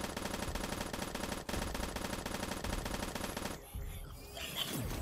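Rapid automatic gunfire from a weapon in a dinosaur video game, a dense continuous rattle that runs loud for several seconds, then cuts out into a quieter stretch of faint rumbling and hiss.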